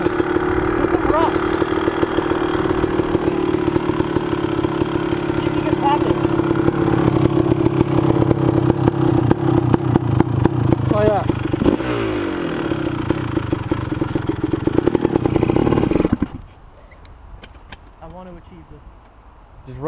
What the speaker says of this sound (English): Just rev it out high, but not like really high, just give it some revs.